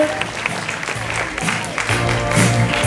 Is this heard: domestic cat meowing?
no